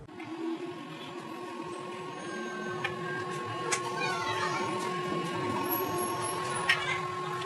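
A film cutting machine cutting 0.25 mm film, a steady mechanical whir with a constant tone and faint ticks and clicks, running quietly on its own.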